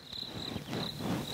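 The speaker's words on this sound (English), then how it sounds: "Crickets." Crickets chirp in a steady, high, thin trill over a soft night-time hiss, brief and fairly quiet.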